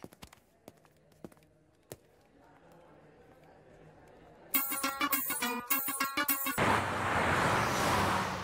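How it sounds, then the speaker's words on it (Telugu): A phone ringing in a Telugu comedy film scene: after sparse taps and thuds, a bright repeating ring tone sounds in short bursts, followed by a broad wash of noise. "ఫోన్ రింగ్ అవుతుంది"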